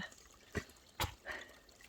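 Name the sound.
water trickling at a small water source beside a trail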